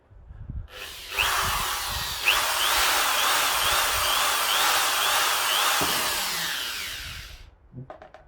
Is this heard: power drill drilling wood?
yes